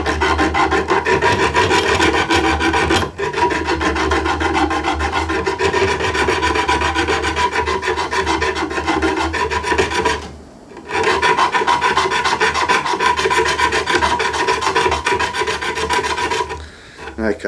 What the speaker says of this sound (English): take a piece of sandpaper. The fabric back sandpaper is the best for this